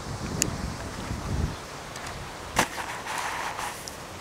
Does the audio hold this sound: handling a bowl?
no